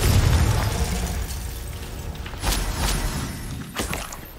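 Confringo, a blasting spell in Hogwarts Legacy, goes off in several bursts: a deep rumbling blast at the start, then sharper cracking pops with debris-like crackle, loud and close, with no talking.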